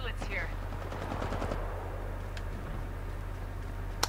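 Rapid automatic gunfire in a Titanfall 2 pilots-versus-pilots match, a dense stream of shots rattling over a steady low hum and background game noise, moderately loud, with a faint sharp crack near the end.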